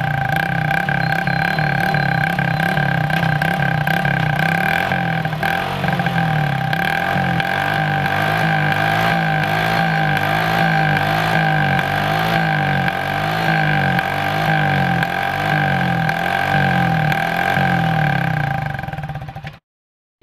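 Hero Passion Pro motorcycle idling with its exhaust popping and crackling as the key is switched off and on, a loud, steady run of rhythmic bangs close by that cuts out abruptly at the end.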